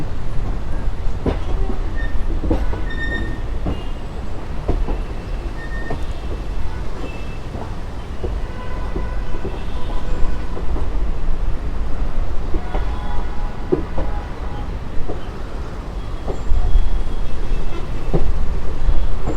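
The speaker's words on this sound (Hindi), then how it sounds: "अब मुझे लगता है कि शायद ये ट्रेन कहीं नहीं रुकेगी, स्टेशन पे पहुंच जाएगी" A local train running from Gurugram to Delhi Junction: steady loud rumble of a rail car interior with rhythmic clickety-clack of wheels over joints and occasional faint squeals, continuous throughout.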